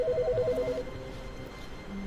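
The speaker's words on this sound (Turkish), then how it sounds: "Telefon çalıyor lan." A telephone rings inside The Stanley Parable, a short burst of steady electronic ring tones in the first second that then gives way to low, murky game ambience.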